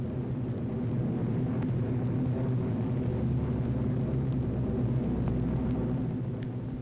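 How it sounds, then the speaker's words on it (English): B-24 Liberator bombers of the US 8th Air Force flying over, a continuous deep droning engine rumble that holds steady and loud throughout. "During the morning, liberators of the US 8th Air Force dropped a further day's supplies"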